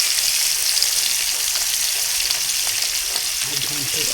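Fish fries in a pan over a wood-fired stove, giving a continuous close sizzling hiss with faint crackles, and a voice is briefly heard near the end.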